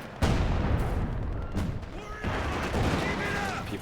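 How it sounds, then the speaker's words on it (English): ZiS gun artillery barrage in a grand-finals video game match, with a sharp blast followed by further heavy booming impacts and rolling battle noise over about four seconds. "there's also the Zis barrage."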